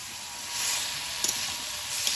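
Cauliflower fries in hot oil in a wok with nigella seeds, bay leaf, onion, tomato and grated ginger, giving a steady close sizzle with a couple of faint stirring clicks.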